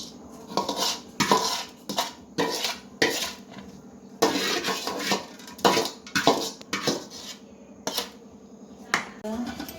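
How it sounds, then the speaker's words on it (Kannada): A spoon clatters and scrapes against a bowl while paddu batter is mixed with roasted chana dal, giving sharp, irregular metallic knocks repeating every second or so, close and clear. "ಆಗಲೇ ಮಿಕ್ಸ್ ಮಾಡಿರೋ ಹಿಟ್ಟಿಗೆ ಈ ಕಡಲೆಬೇಳೆ ಹುರ್ಕೊಂಡಿರೋದನ್ನೆಲ್ಲ ಹಾಕಿ ಮಿಕ್ಸ್ ಮಾಡ್ಕೊತಾ ಇದ್ದೀವಿ."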